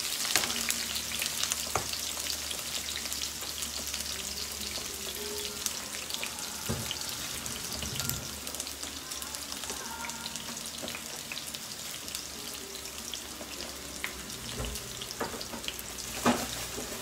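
Onion and shallots fry steadily in a hot pan, a continuous loud sizzle with occasional stirring clatters and a few sharper pops, heard alone without talk.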